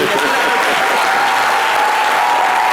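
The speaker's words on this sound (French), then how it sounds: "Applaudissez votre parrain." Dense, loud audience applause at a televised celebration show, sustained and even throughout, a full crowd clapping with a faint murmur mixed in.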